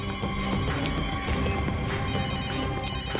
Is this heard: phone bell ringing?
yes